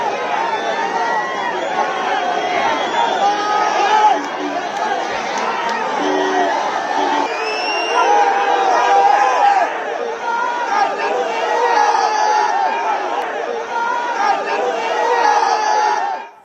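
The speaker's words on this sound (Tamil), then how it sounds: "காவல் நிலையத்திற்கு வெளியே காத்திருந்த திமுக தொண்டர்கள் உதயநிதி ஸ்டாலினை பார்த்து ஆரவாரம் செய்தனர்" DMK party workers waiting outside a police station cheer and shout for Udhayanidhi Stalin. The crowd makes a dense, loud, continuous hubbub of voices and whoops that lasts the whole stretch.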